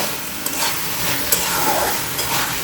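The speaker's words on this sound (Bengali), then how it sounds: "এখন আমি নাড়াচাড়া দিয়ে জাল বন্ধ করে দিব" Chicken gizzard and liver bhuna, its gravy almost dried, is stirred in a pan over high flame: a spoon scrapes and clicks a few times over a steady, close sizzle, with no voices.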